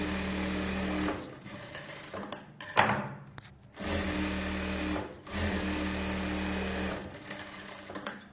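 A sewing machine stitches a blouse in several steady bursts, each a few seconds long and separated by short pauses, with a faint clack of handling in between.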